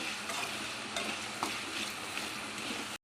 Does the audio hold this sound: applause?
no